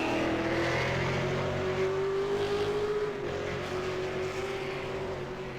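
A race car engine at Road America in a racing video game holds a loud, sustained whine that shifts pitch slightly as it drives, alone without talk.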